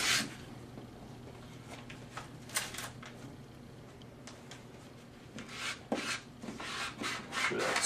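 A squeegee drags across wet vinyl lettering during application, producing soft, intermittent rubbing and scraping strokes, fairly close but quiet, with no talk.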